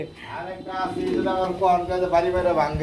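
Grey Lahori pigeons coo close by in rhythmic, throaty, repeated calls, while someone talks over them.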